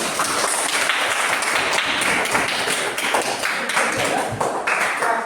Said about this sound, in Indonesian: Tepuk tangan untuk Nicholas